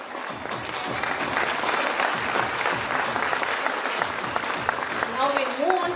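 Audience applause for prize winners at a school annual prize distribution and cultural programme, a steady wash of clapping from a large crowd lasting throughout, with a voice briefly audible near the end.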